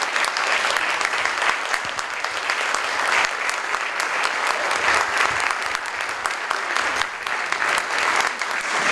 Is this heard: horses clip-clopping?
no